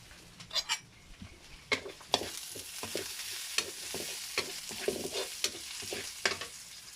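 Ginger frying in a pan, crackling and sizzling steadily up close while a utensil scrapes and taps against the metal in irregular strokes, and no one speaks.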